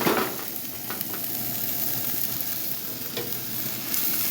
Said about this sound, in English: we're going to give it a couple of good shakes and flips